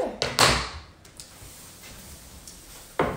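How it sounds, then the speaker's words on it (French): The side panel of a wooden cold-process soap mold holding hardened salt-water soap is pulled off, giving a few sharp knocks and clacks at the start, quiet handling in between, and another firm knock near the end. "je vais retirer la porte du moule"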